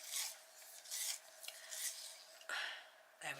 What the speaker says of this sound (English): I'm going to give it a sharpen